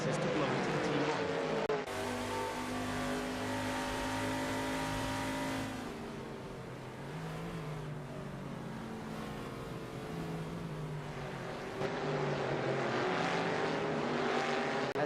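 Race cars from a sim racing game surging away together at the start of a Cobra series race, engines revving and droning loudly as a continuous dense roar that swells and eases, with a voice talking over it.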